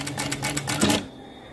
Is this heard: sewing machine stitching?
yes